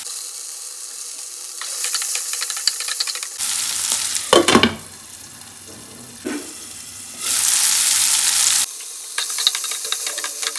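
Tomatoes added to frying onions in a pan for a chicken curry and stirred, with bursts of loud sizzling that start and stop and scraping stir strokes in between.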